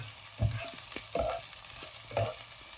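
Chopped onions frying in a pan after browned garlic for chicken Manchurian, a steady sizzle broken by several distinct scraping stirs of a spatula.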